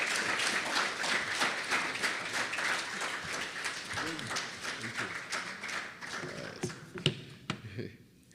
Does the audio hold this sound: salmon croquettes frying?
no